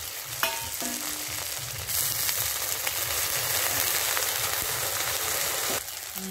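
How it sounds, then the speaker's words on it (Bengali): Ginger garlic paste fries in a pan with a splash of water, giving a continuous close sizzle that jumps louder partway through and then settles back near the end, with faint stirring scrapes. "এবার আমি এটা আদা রসুন বাটা দিয়ে দিলাম। এটা একটু ভাজা করে নেব।"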